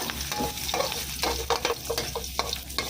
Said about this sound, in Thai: รอให้น้ำมันร้อนได้ที่แล้วเราก็ใส่กระเทียมที่เราสับไว้เมื่อคู่ลงไปผัดได้เลยค่ะ